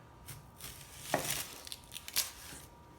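A knife chops through an onion on a cutting board in a kitchen, landing a few sharp, irregular cuts at close range with no talking.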